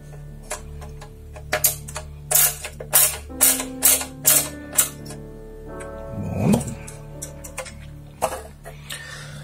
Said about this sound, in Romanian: și adăugăm aici acest șurub